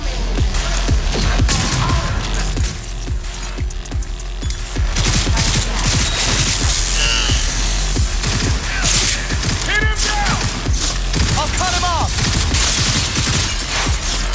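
In the Cyberpunk video game, dense rapid gunfire and bursts of explosions crackle loudly throughout, with mechanical clicks and brief voices mixed in.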